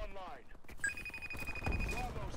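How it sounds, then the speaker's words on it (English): A sustained high electronic ringing tone in the video game Advanced Warfare, steady and thin, running beneath gunfire and game noise while a person talks over it. "That ringing is very annoying, I must say."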